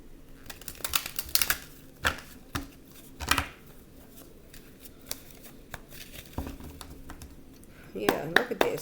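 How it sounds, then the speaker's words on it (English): Tarot cards are shuffled in quick, crisp riffles and taps close by, in bursts separated by brief pauses, with light rustling at the end. "One final card I'm going to shuffle."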